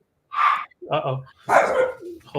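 A dog barks three or four times in a short, close burst, with yips and a whimpery tail at the end, heard during a vintage live sale at home.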